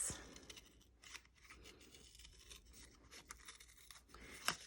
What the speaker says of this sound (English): now let's cut out the center, the little, where the light is